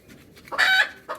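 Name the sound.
chickens clucking and squawking in coop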